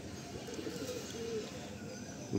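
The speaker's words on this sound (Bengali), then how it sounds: "খুব সুন্দর একটা নর পায়রা" A male Madrasi pigeon coos softly a few times, low and close, in a loft in Kolkata, against a quiet background.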